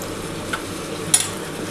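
Spice paste for elephant foot yam curry being stirred and fried in a pan with a little water, a soft steady sizzle with a couple of brief scraping stir sounds, close and fairly quiet.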